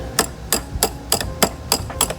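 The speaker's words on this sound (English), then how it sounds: "This is a hammer." Seven evenly spaced metallic strikes of a hammer driving a screwdriver used as a punch while working on a Ford Ranger engine during a swap, crisp and close with no talk.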